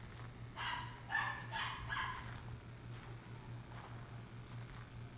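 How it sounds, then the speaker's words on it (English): Chihuahua yapping in a quick burst of several high barks early on, then fainter scattered yips, somewhat distant over a constant low electrical hum. "Sorry for the dog barking."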